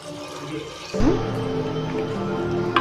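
Water poured into a biryani pot with rice, a gurgling splash that starts suddenly and keeps flowing steadily.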